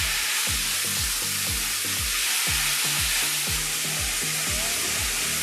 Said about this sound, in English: Next thing, let's give this a stir.